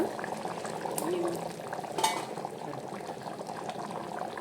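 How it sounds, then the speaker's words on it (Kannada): Kadikalu sambar with masala and water simmering in a pot, giving a steady close bubbling hiss with a brief soft clink of stirring partway through. "ಸೊ ಇವಾಗ ಬೇಯ್ತಾ ಇದೆ, ನೀವು ನೋಡ್ಬೋದು."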